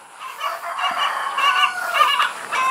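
Close fowl calling in a short run of honking, clucking cries, loud and continuous for a few seconds.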